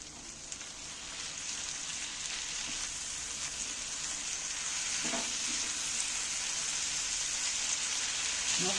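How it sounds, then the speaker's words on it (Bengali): Ginger-garlic paste sizzles steadily in hot oil in a pan for an egg dish, a dense continuous hiss that grows slightly louder over time, with a few soft stirring scrapes and no talking. "ভালোই ভাজা হয়ে গেছে আদা রসুন বাটাটা"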